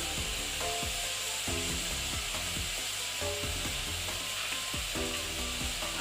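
Potatoes tumble into a pan of frying vegetables while bathua greens (betho saag) cook, bringing a steady close sizzle broken by repeated scraping, stirring knocks throughout, with no one talking.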